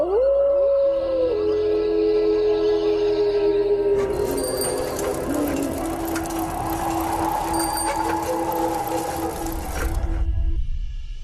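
Several dogs howl outside a window in a horror cartoon, long wavering howls at the start giving way to a dense, noisy wash of sound that fades near the end.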